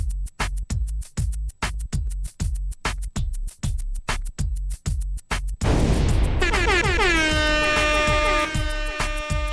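Dancehall remix of a song, opening with a run of hard, evenly spaced percussive hits, then air horns blaring and a dense, loud, sustained mix with layered tonal stabs to the end.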